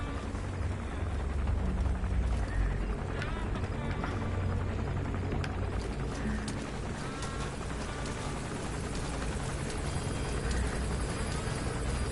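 An enemy gunship helicopter in Metal Gear Solid V: The Phantom Pain makes a continuous low, rumbling drone with rapid rotor chop that stays steady throughout, joined by scattered game effects.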